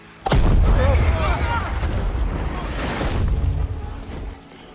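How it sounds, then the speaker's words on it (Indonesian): A mortar shell explodes in a war film with a sudden loud boom, followed by a rumbling roar and debris that fade over several seconds, while someone talks over it. "Namun sebelum tiba di lokasi tujuan, sebuah mortir tiba-tiba meledak."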